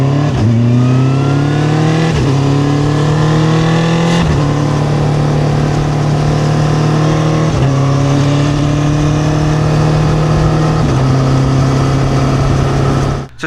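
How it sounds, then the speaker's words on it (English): A Honda CB1000F motorcycle engine revs hard and continuously, its loud exhaust note climbing and dropping through several throttle blips and gear-like steps over about thirteen seconds, close up and without talk. "So it's not an obnoxious bike in terms of exhaust note, but it sounds absolutely gorgeous"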